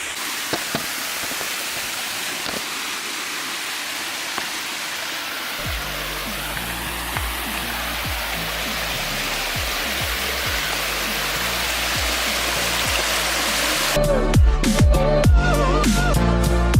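Steady broadband rush of a hidden waterfall near Binghamton, loud and continuous throughout, with a sharper splashing burst near the end as the water sound swells closer.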